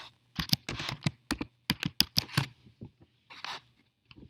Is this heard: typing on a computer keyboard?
yes